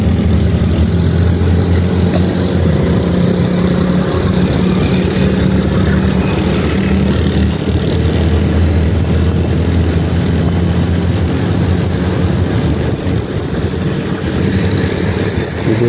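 A hybrid car fitted with 2000 W BLDC hub motors, running on its combustion engine while driving in Pakistan, gives a steady, loud engine drone and road rumble. The sound holds constant throughout, with no talk over it.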